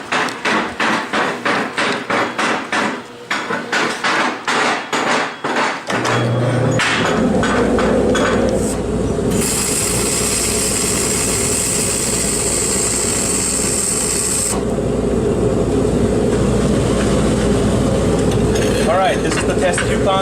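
Flux core dual shield welding with an Avani SPC 2000 machine on 5/8-inch hot rolled 1018 flat stock: rapid clattering gives way to a continuous loud crackling hiss over a steady fume extractor roar, close up.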